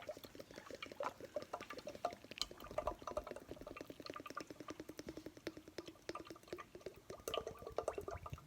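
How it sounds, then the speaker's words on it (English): Cooking oil pours straight into a pan, a soft, quiet stream of rapid liquid patter and gurgle that runs steadily for several seconds with small swells, close by and with no talk. "we're just going to pour oil straight into our pan"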